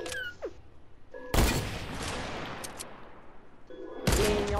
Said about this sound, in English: y'all are shooting at each other